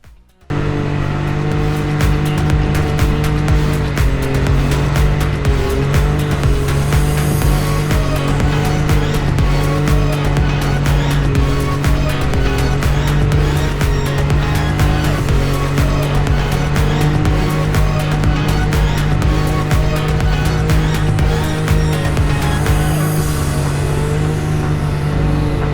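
A Can-Am X3 side-by-side cruises through snowy Pacific Northwest backcountry, its engine a steady, loud drone with strong low harmonics that holds for the whole stretch without talk.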